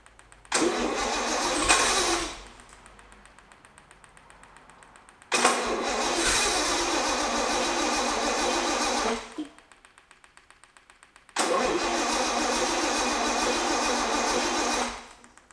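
A 50-year-old Bedford petrol engine cranks in three long bursts of a few seconds each, with short quiet gaps between them. The churning is loud and close, with no clear catch or steady idle between the attempts.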